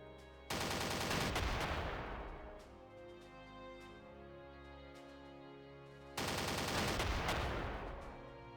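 Gunfire from units in a wargame video game, heard as two loud bursts of rapid shots several seconds apart, each trailing off into ringing echoes, with no talking.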